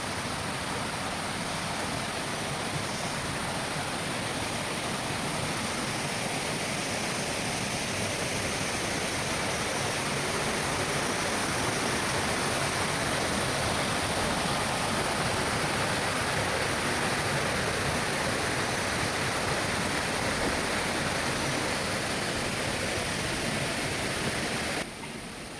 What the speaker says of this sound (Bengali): শুনতে পাচ্ছ ঝর্ণার আওয়াজ?